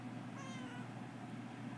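A faint, drawn-out cat meow, quiet and somewhat distant under steady background hiss.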